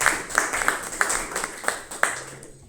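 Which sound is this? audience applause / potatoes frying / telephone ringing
audience applause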